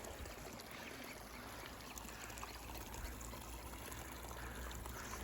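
A small spring wells up from the ground in the Suru Valley near the Nun Kun glacier, making a faint, steady trickle and gentle flow that continues evenly, with no voices.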